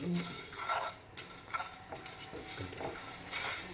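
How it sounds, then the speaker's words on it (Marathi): Coriander seeds are dry-roasted over a low flame and stirred in a pan, giving soft scraping and clinking of a spoon against metal with faint rattling seeds, quiet and close. "बारीक गॅसवर आपण हे धने भाजून घेणार आहोत एक मिनिटभर"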